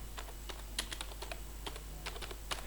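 Typing on a computer keyboard while filling in PowerPoint slides, with irregular bursts of close, crisp key clicks and a few louder strokes, heard alone with no talking.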